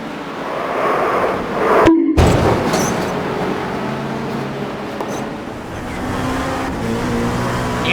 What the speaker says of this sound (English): the rear just gets loose and spears the car into the opposite direction